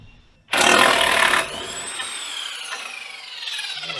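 An impact wrench removing a part on a motor grader: one loud close burst of rapid hammering for about a second, followed by a fading metallic ringing hum.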